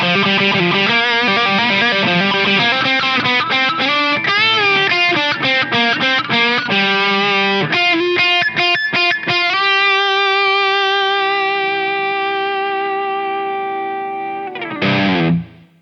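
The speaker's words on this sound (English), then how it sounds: "now we have all the overdrive circuits blended in parallel equally." Electric guitar through a DOD Badder Monkey overdrive pedal with all its overdrive circuits blended in parallel, playing loud distorted riffs and chords, then a long sustained chord fading before a brief final strum.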